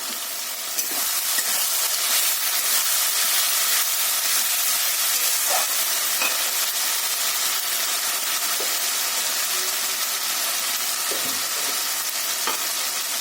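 Green chillies hit hot oil in a frying pan and sizzle loudly, a steady close hiss with occasional crackles and pops throughout.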